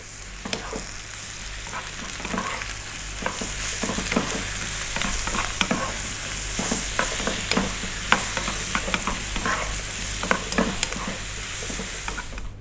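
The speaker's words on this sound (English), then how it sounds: "2 minutes, stirring all the time" Potatoes fry with turmeric, chili and cumin powders while being stirred continuously, a loud close sizzle broken by repeated scraping strokes of a utensil against the pan.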